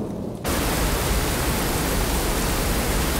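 Heavy rain in a Swedish-dubbed Peppa Pig cartoon starts abruptly as a loud, steady, even hiss that fills the scene without a break.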